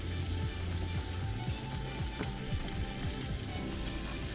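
Eggs sizzle and fry steadily in a pan cooked outdoors, a continuous crackling hiss with small popping spatters, close and fairly quiet.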